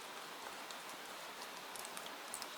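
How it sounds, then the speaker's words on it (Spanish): Gentle rain falls steadily on forest leaves, a soft continuous hiss with scattered brighter drop ticks, faint and unbroken with no voices. "mientras una suave lluvia cae a tu alrededor"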